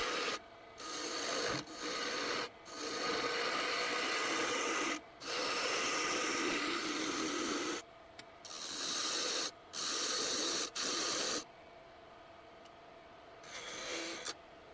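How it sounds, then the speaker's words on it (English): A wooden knife-sharpener handle spins on a lathe while a tool shaves it down, making rasping scrapes in bursts separated by brief pauses, close up with no talk. "With gradual material removal, the cylinder is turned into the final handle shape."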